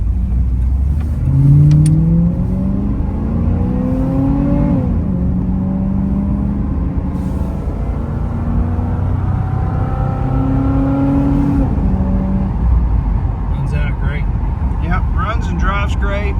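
1991 Chevrolet Camaro RS accelerating on a road, its engine climbing through several gear shifts with rising and dropping pitch, loud and close from inside, with a voice talking over it.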